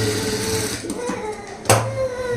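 An electric sewing machine stitches the lining of a stone-work blouse, running in a close, continuous whir with a sharp clack as it stops and restarts.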